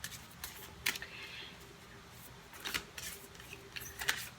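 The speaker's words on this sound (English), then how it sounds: "I'm going to go ahead and start shuffling." Tarot cards are shuffled close by in quick, crisp bursts of flicking and snapping, with short quiet pauses between the shuffles.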